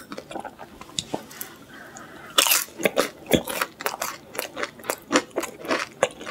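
Crunchy bites and chewing of crispy Papa John's pizza crust, close and loud, a sharp bite followed by a steady run of crackling chews.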